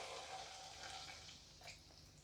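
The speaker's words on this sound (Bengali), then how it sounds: "এবার আমি এর মধ্যে কিছুটা পরিমাণ জল দিয়ে দিচ্ছি।" Water poured into cooked masala in a pan for a raw-banana kofta curry, a soft continuous splashing hiss with a faint sizzle, steady and close for about two seconds.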